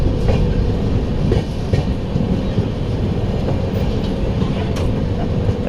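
The Purvanchal Express passenger train rumbles loudly and steadily from on board as it pulls into Bardhaman station, with faint clickety-clack of wheels over the rails.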